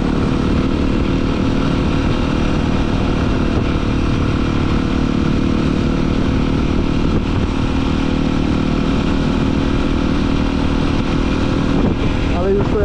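Enduro motorcycle engine held in a wheelie: a steady, loud, droning engine note that stays nearly constant for the whole stretch, with a slight shift near the end.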